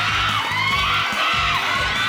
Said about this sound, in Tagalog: Dami tumitili sa inyo dito sa studio